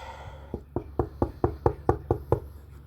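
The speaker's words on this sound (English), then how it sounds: "knock on wood" Sharp knocks on wood, about nine evenly spaced raps in a steady rhythm, close and distinct over a low background hum.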